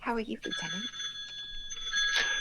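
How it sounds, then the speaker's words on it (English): A rotary telephone rings with a bright, steady bell tone that cuts in after someone speaks briefly and continues under a short stretch of quiet. "Yes, I have a rotary phone."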